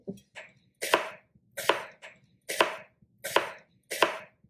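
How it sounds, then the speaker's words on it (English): A knife chops through a large onion on a board in six crisp, evenly spaced strokes, each a sharp crunch followed by a brief rustle, close and fairly loud with a faint hum underneath and no talking. "We cut a lot of onion here"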